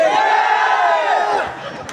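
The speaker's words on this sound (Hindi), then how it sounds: "लगाओ जयकारा, वो सच्चे दरबार की।" A packed crowd at a Hindu Mata jagran devotional night shouts a jaikara chant together, a loud, sustained massed roar of voices that fades toward the end.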